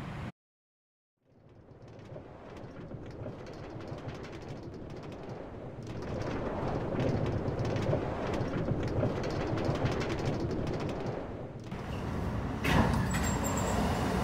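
A New York City subway 2 train heads toward Brooklyn College, Flatbush Avenue. After a brief silence, a low rumble of wheels and motors rises to a steady, loud roar, with a sharp screech near the end.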